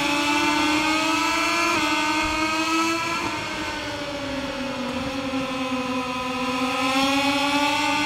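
A Moto2 racing motorcycle in the MotoGP 21 video game pulls hard out of a corner, its engine note holding a steady high whine with a slight dip and rise as it powers on, loud and continuous, with no talk.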